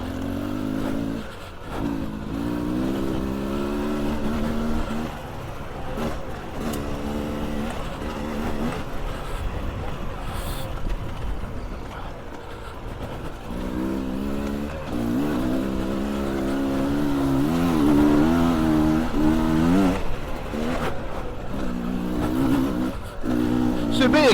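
Beta Xtrainer enduro motorcycle riding a lap of a new enduro track, its engine droning and revving continuously up and down close by.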